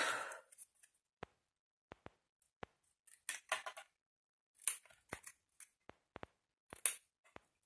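Scissors snip through scrapbooking paper in a quiet room, with sharp isolated cuts and short clusters of snips spaced irregularly, close and crisp with no talking.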